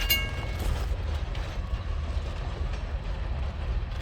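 A Kiamichi Railroad freight train rolling past near Garvin, Oklahoma: a steady, moderate low rumble of wheels and cars, continuous with no horn, heard from trackside.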